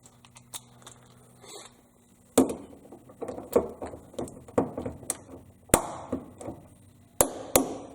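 Ratcheting clicks and sharp metallic taps from a torque wrench tightening the remaining cylinder head bolts on a small-block Chevy 406 in an S10 engine bay, a quiet stretch then a run of irregular close clicks and knocks.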